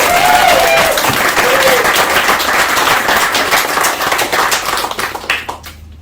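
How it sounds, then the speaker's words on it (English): An audience applauds loudly after a live performance, dense clapping close by that holds steady before thinning out and fading into quiet at the end. "Can we have a round of applause for the performance?"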